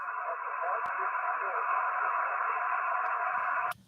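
Amateur radio static hisses steadily, a flat band of noise with a very faint park-to-park station buried inside, broken by a couple of sharp clicks before cutting off abruptly.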